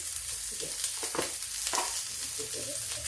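Garlic and onion frying in a pan with a little oil, a continuous close sizzle with stirring scrapes and soft clatters breaking through the hiss.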